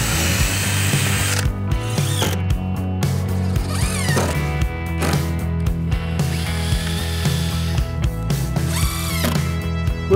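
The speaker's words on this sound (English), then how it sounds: "Drill." A drill drives structural screws through an outside plate and a 2x4 on a renovation build, whirring loud and close in repeated short bursts with ratcheting clutch clicks between them.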